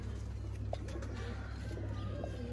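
Pigeons cooing in a loft, a pink dora among them: soft, low, throaty coos repeat close by over a steady background hum.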